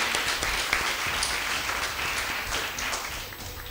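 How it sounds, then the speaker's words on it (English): Audience applause for both teams at a school debate semi-final between Matungulu Girls and Machakos School, a steady burst of clapping throughout, fairly distant and moderately loud. "Let's give a round of applause to both teams."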